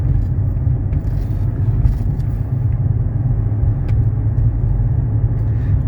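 A 1991 Mercedes 300SE on a highway drive along Georgia 400, heard from inside as a steady low engine hum and road rumble, continuous and fairly loud, with no talking.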